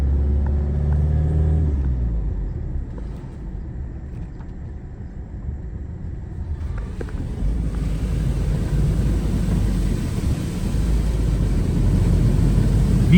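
Isuzu V-Cross pickup driving through floodwater on a mountain road, a steady loud rumble of engine and rushing, splashing water with wind buffeting the microphone, growing heavier in the second half.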